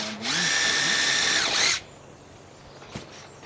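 A power drill drives a fastener into tongue and groove boards on an A-frame cabin: one loud whirring burst of about a second and a half that winds down, then quiet with a faint knock.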